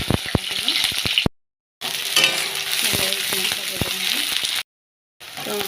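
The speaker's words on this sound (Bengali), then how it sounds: "মাছের ঝাল বানানোর জন্য তেলের উপর কালো জিরে দিয়ে দিলাম।" Nigella seeds sizzle in hot oil for a Bengali fish curry, a steady bright frying hiss with soft stirring taps, broken by two brief silent gaps.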